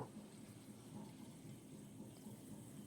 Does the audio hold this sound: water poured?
yes